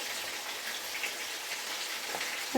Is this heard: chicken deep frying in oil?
yes